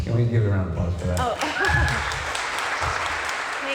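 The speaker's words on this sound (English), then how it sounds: "Can we give a round of applause for that?" Audience applause breaks out after a speaker's voice, a soft, steady spread of clapping from a crowd that continues evenly, with talking heard near the start.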